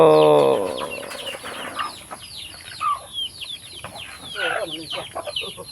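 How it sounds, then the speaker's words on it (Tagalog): Chickens cluck and squawk in short, scattered bursts nearby, with a louder call at the start and rustling between. "maraming mga manok, yan"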